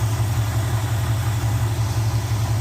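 A Chevy 350 V8 in a classic GM farm truck idles steadily during a tune-up, a close, loud, low rumbling throb with even pulsing and no voices.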